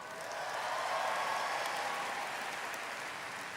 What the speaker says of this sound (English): Let's give another round of applause for our preliminary selection committee